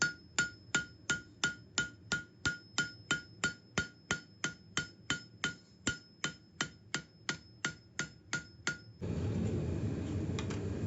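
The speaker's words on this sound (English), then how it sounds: "as I'm fullering, I'm keeping my hammer in the same place and moving my material under my hammer" A hammer repeatedly strikes hot steel on an anvil while fullering a spear blank, about twenty-five sharp, evenly spaced ringing blows close by, then the hammering stops and a steady broadband roar, likely a forge fire or blower, takes over.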